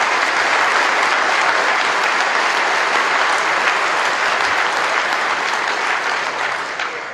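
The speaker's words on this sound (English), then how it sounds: "they deserve a round of applause" A crowd at a Kentucky political rally in Boone County applauds steadily and loudly, dense clapping sustained without pause and fading slightly at the very end.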